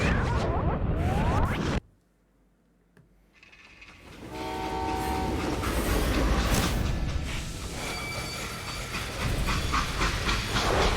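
A freight train running along the rails with its horn blowing: loud rumbling and hiss, a brief quieter gap, then sustained horn tones over the continuing clatter.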